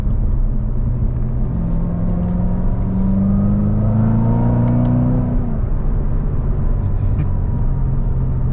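A Corvette C7 Z06 with the Z07 package growls loudly through its exhaust while being driven, a steady deep drone from inside the cabin with a rising tone sweeping up and then dropping away partway through.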